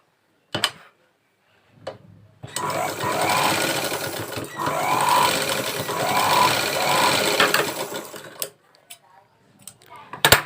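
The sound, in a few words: sewing machine stitching rope fabric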